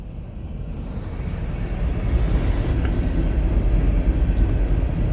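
CN manifest freight train heading eastbound behind locomotives CN 8002 and CN 2651 with distributed power unit CN 8900, a low continuous rumble that swells slightly, mixed with gusty wind on the microphone.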